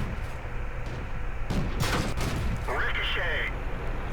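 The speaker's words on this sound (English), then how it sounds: "We got a ricochet shot." Tank cannon fire and shell impacts in World of Tanks, a Type 5 Ke-Ho light tank in battle: a sharp blast around midway followed by a ringing metallic ricochet, over a constant engine rumble with a voice talking.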